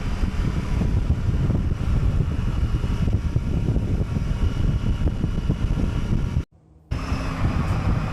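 Royal Enfield Super Meteor 650 motorcycle cruising on a motorway at 70 mph, a loud continuous roar of engine and heavy wind buffeting across the microphone, dropping out briefly near the end before resuming.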